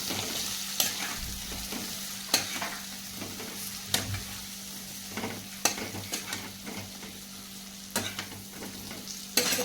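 Stuffed brinjal with masala is stir-fried in a pan, a soft frying hiss under a series of sharp spatula scrapes and knocks spaced a second or two apart.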